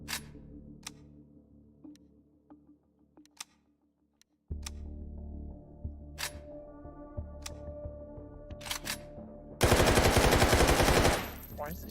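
Gunfire from the virtual-reality shooter Take & Hold comes as scattered sharp single shots and clicks, then ends in a loud sustained burst of rapid automatic fire near the end.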